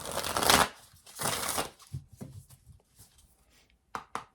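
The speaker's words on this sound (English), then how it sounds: "Actually, I want to do one more shuffle." Tarot cards are riffled and shuffled in two long bursts close to the mic, then a few short taps and soft shuffles follow in a quiet room.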